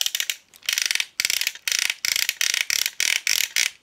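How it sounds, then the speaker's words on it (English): Ratcheting joints on a Combiner Wars Computron Transformers toy produce close, loud runs of rapid plastic clicks, several bursts in quick succession with short pauses between them. "Love those ratchets."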